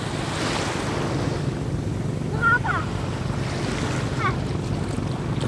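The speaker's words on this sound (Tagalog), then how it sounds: "Dumaan kasi yung bangka ni Kuya, yung lakas eh, kaya umalon eh." Waves raised by a passing boat wash and surge steadily against the shore of a sandbar beach on Bantayan Island, Cebu, with wind noise, a couple of short bird-like chirps rising briefly midway.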